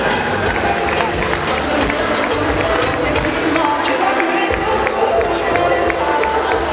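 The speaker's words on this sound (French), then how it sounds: "Sous vos acclamations, s'il vous plaît" A crowd at a student fashion show cheers and claps steadily, a loud continuous roar of voices and applause with no break.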